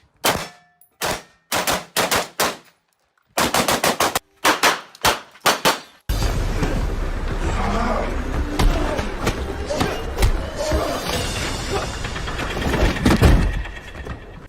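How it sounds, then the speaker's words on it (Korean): Gunfire from actor Keanu Reeves's shooting practice: a rapid series of about a dozen sharp, loud shots in quick bursts, then a noisier stretch of further impacts and clanks with background commotion. "그의 사격 영상을 보면 감탄이 절로 나오는 상황입니다."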